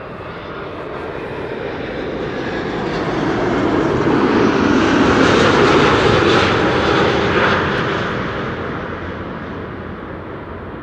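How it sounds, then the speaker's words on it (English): A 21-year-old KLM Boeing 777-200, arriving from Edmonton, passes close on approach to Amsterdam Schiphol: a steady, loud jet engine roar that builds gradually, peaks around the middle and fades, with no voices. "This is KLM flight 676 arriving from Edmonton, Canada. 777-200 7 hours 52 minutes underway."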